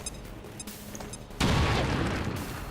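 A frag grenade explodes in the strategy game XCOM 2, a sudden heavy boom that swells and rumbles on after quieter gunfire-like pops, loud and with no voices.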